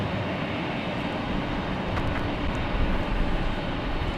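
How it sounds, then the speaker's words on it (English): A Lufthansa airliner takes off from the north runway at LAX, a broad, steady roar heard from a distance with no voices. "Lufthansa is about to get airborne for Frankfurt"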